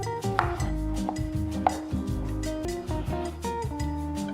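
A knife chops small red potatoes into pieces on a cutting board, giving a series of close, crisp thuds in an uneven rhythm.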